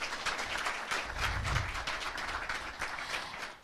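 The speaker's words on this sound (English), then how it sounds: "Please, another round of applause for His Excellency." An audience applauds the President of Ghana at a formal event. The clapping is dense and continuous, fairly distant, and sustained for several seconds before tapering at the end.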